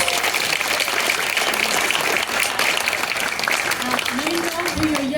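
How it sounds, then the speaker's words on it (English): An audience at a Savoy dance event applauds the musicians, steady close clapping throughout with voices talking and a rising spoken tone emerging over it near the end. "Please give them a round of applause."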